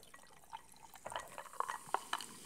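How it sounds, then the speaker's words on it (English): Mexican Coca-Cola is poured into a glass with ice, giving a quiet trickle with scattered crackles, fizz and drips that grow busier toward the end. "I'm going to pour some here for myself."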